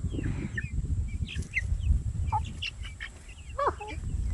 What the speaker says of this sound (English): Got all the chickens who are allowed to free range around, but they pretty much just stay around their cage.